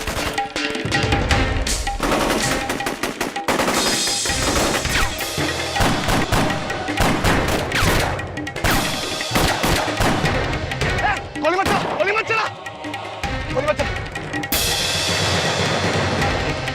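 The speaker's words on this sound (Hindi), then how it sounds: "कौन गोली चला रहा है?" Dense bursts of gunfire crackle and thump almost continuously, mixed with dramatic music, crashes and occasional shouting voices.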